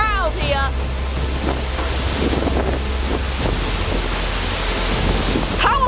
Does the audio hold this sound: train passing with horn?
no